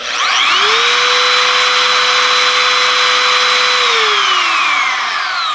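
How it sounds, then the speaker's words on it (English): WEN budget trim router motor ramping up gradually on soft start to a loud, steady high-pitched whine, holding for several seconds before spinning down, close and without talk. "This is supposed to have a soft start motor,"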